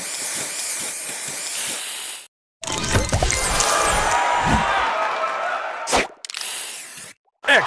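Spray booster in the mobile match puzzle game Match Masters, loud hissing bursts lasting a few seconds, cut by brief silences and broken up with short clicks and game effects.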